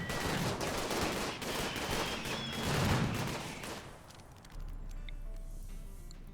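Turrets in a video game fire on metanoids: dense, rapid gunfire bursts fill the first four seconds, then the shooting drops away to a low steady hum with scattered faint clicks.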